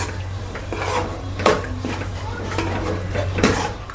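A spoon stirs matar paneer curry in a metal pan, making repeated close clanks and scrapes in an uneven rhythm over a low steady kitchen hum, with no talking.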